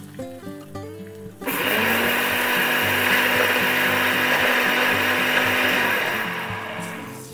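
Poppy seeds are ground dry in an electric kitchen grinder: a few soft knocks, then a sudden, loud, steady motor whir with rattling seeds that runs for several seconds before easing off.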